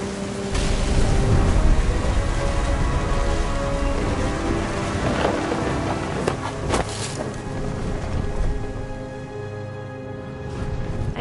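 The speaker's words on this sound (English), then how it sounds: "The thunder sounded much too close and full of angry power" Steady rain patters with thunderstorm rumble in the video game What Remains of Edith Finch, the dense hiss staying loud and continuous, with a few sharper cracks partway through before it eases slightly.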